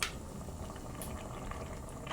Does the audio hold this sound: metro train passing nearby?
no